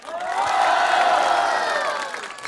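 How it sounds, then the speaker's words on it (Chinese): A live crowd at a comedy and acrobatics stage show roars and cheers in one swelling burst, rising quickly, holding loud for a couple of seconds, then fading. "能不能给我来点呐喊声？"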